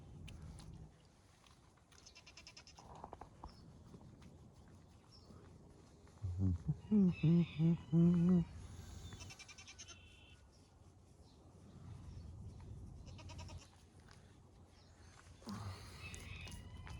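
Sheep bleating close by on a farm, a short burst of several loud wavering bleats in the middle, with quiet background noise and a fainter bleat near the end.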